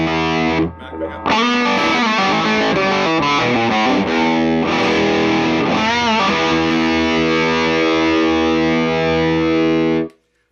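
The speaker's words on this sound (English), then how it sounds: "Back pickup." Fender Custom Shop La Cabronita Especial electric guitar on the back pickup, loud and distorted with effects, a short stab followed by a long ringing chord with wavering, vibrato-like notes before cutting off cleanly.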